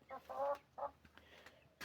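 Chickens make short, close clucks in a quick burst of two or three calls. A softer cluck follows after a pause, over quiet farm background.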